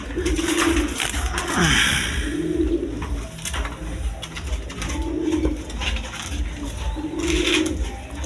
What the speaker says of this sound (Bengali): এখানে এক পেয়ার চিলা কবুতর আছে দেখেন